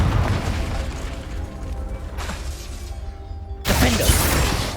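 Magical fire spell blasts in a fantasy action game, a dense roaring burst that fades to a hiss and then a second sudden loud whoosh-boom near the end.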